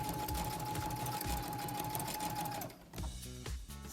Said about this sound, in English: we're just gonna keep going with the same overcast stitch